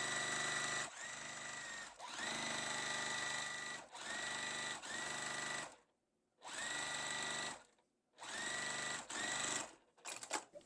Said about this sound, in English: The next step is sewing up the chimney.